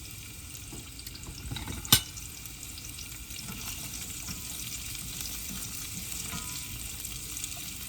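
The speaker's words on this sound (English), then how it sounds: "So let's go ahead and add, it's sizzling a little bit." Food frying in olive oil in a pan for a low-carb breakfast scrambler, a soft continuous sizzle with faint stirring scrapes and one sharp clink.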